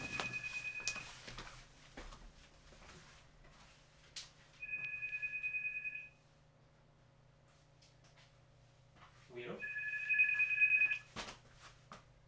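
A telephone rings in three separate bursts of electronic trilling, each lasting about a second or more with pauses between, fairly faint against a quiet room with a few small knocks.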